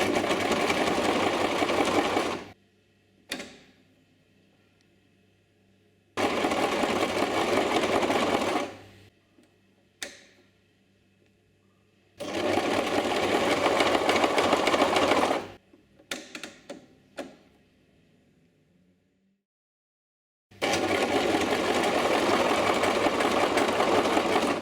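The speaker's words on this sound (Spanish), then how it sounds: "Y ahora sí, a coser." A Brother LS 2125 household sewing machine runs in several loud bursts of rapid mechanical stitching, separated by short pauses and a few brief clicks of the mechanism, with no talk.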